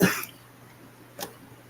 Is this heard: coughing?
yes